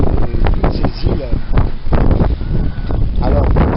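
Strong wind buffets the microphone aboard a sailboat heading toward Pointe-à-Pitre in the Caribbean, a loud continuous rumble with gusts, and a person talks over it.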